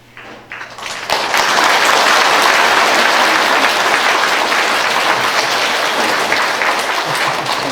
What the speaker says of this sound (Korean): 잠깐 세 분을 환영하는 마음으로 뜨거운 박수로 환영하도록 하겠습니다.